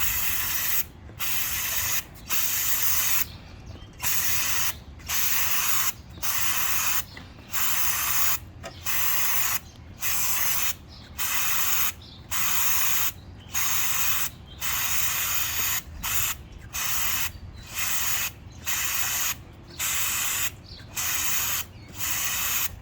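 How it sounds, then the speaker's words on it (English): Repeated short bursts of aerosol chain cleaner spray on a Ducati 1299 Panigale motorcycle chain, about twenty evenly spaced hisses with brief gaps between them, close and steady. "So we're just gonna spray."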